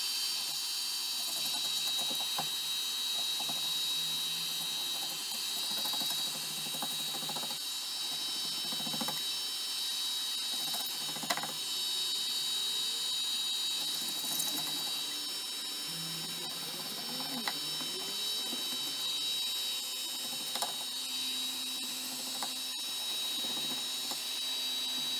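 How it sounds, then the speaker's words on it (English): A heat gun on its lowest setting, stripping paint and poly finish from a bass guitar body, gives a steady close whirring hiss with a thin high whine throughout, broken by faint scattered scraping clicks. "I was just using the heat gun on its lowest setting so we didn't burn any of the wood."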